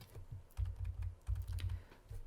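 Computer keyboard keys pressed for Ctrl-plus and Ctrl-minus shortcuts while working in InDesign, a quick run of soft, muffled taps in two short clusters, close up with no talking.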